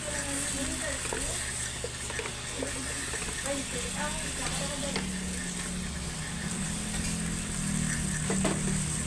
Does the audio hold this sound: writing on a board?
no